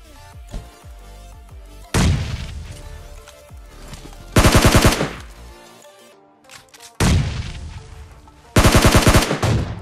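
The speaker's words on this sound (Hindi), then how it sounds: "तो फिर चलिए गोला बारूद चलाते हैं" Heavy bursts of automatic gunfire from the mobile shooter game PUBG Mobile Lite, loud rapid volleys repeating in several long strings with booming impacts between them, no talking.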